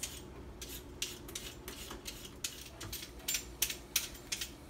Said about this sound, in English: I'm going to start peeling and scrubbing these carrots and these potatoes